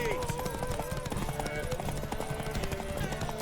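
Hooves of a galloping horse in The Witcher 3 video game beat in a quick, steady clip-clop throughout, close and fairly loud under spoken voices and game music.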